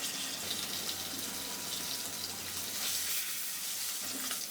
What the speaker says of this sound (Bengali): কড়াই গরম হয়ে গেছে আমি দিয়ে দেবো সরিষার তেল এগুলো ভেজে নেবো